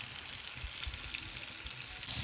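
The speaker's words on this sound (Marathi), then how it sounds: "तिकडं बघा मच्छी मस्त फ्राय झाले." Tilapia fillets frying in hot oil in a pan, a steady close sizzle with soft crackling throughout and no talk.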